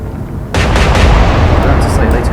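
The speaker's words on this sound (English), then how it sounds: "Fire! It's a good salvo." A warship's gun salvo fires in the naval video game Atlantic Fleet, a sudden loud booming blast with a rumbling, sustained roar trailing after it.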